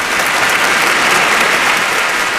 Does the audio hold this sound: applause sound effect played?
yes